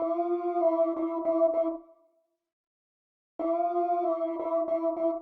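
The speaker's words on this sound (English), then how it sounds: "Got a fair bit of portamento on it." A mellow synth lead plays sustained notes that glide between pitches, stops for over a second, then comes back in.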